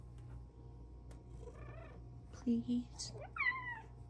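Cat meowing in short chirpy bursts over a soft steady purr, close by, while someone talks to it.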